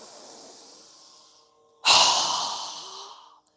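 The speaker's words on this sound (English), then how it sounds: "We're going to exhale with a strong breath with our mouth open wide as we lower our arms down" Breathing exercise in a live class: a soft, drawn-out inhale is followed after a short pause by a strong, breathy open-mouthed exhale that starts loud and fades away, close to the mic.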